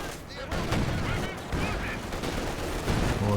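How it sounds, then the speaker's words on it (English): Artillery barrage in Company of Heroes, a World War II strategy game, sounding as dense overlapping booms and crackling gunfire that stay loud for the whole stretch, with a commentator's voice faintly woven through the battle noise. "Oh, nice this barrage from Saltman."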